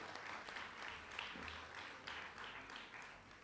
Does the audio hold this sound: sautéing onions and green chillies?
no